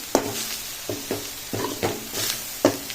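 Mushrooms roasting in a pan over medium heat for a Goan mushroom masala, stirred in five or six distinct scraping strokes over a steady sizzle, close and fairly loud, with no talking.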